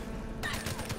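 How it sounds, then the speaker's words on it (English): Suppressed Man-O-War rifle firing in a video game, a dense burst of muffled shots that starts partway through and stays loud to the end over steady game ambience. "I don't normally like using suppressors, but on the Man of War, it's honestly not bad."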